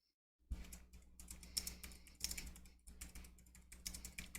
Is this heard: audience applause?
no